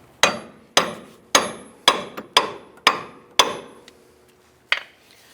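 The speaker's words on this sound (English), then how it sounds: "I'm going to go ahead and separate the control arm from the knuckle." Hammer blows on a 2002-2007 Jeep Liberty suspension, separating the upper control arm from the steering knuckle: about eight sharp, ringing metallic strikes at a roughly even rhythm, close and loud, with a lighter tap between and a final hit after a pause.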